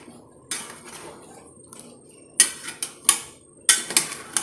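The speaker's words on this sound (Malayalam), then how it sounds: "അപ്പോൾ നമുക്ക് ഒന്ന് ഇളക്കിയിട്ട് നോക്കാം." A spoon stirring and scraping a pot of Thiruvathira puzhukku, a run of sharp metallic clinks and knocks at irregular intervals over a quiet background.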